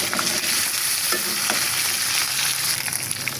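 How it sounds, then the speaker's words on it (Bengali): Ridge gourd fries in a little oil in a pot, giving a loud, steady sizzling hiss with faint clinks and stirring scrapes scattered through it. "এখানে ধুন্দুল ভাজি করব অল্প তেলে"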